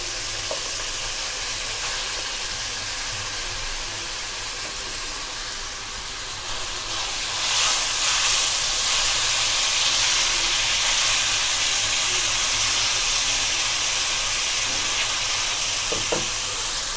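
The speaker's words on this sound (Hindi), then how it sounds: "प्याज को हम 1 से 2 मिनट फ्राई करेंगे।" Onions and half a kilo of chicken mince fry in a pan with ginger-garlic, giving a steady close sizzle and hiss that swells and grows brighter about midway, with occasional stirring clinks.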